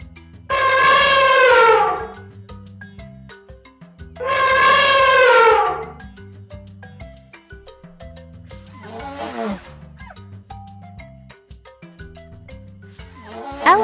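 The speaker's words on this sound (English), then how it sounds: "Elephant." An elephant trumpets twice in loud, brassy blasts, each about a second and a half long, over a rhythmic backing beat, followed by a shorter, rougher call.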